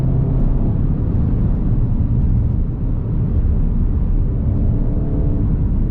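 Cabin rumble from an APR Stage 1 VW Golf GTI Mk7.5 pulling hard out of corners, a steady deep engine drone that stays loud and even throughout.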